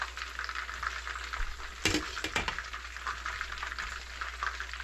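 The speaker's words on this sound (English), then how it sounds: "what we're frying on the other side is some fried chicken thighs" Steady sizzling of chicken thighs frying in a hot pan, with a brief louder clatter of stirring partway through.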